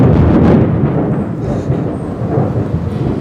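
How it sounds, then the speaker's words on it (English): Deep rolling thunder rumbles loudly through the whole moment, a long sustained growl with rain falling beneath it. "I hope y'all heard the thunder"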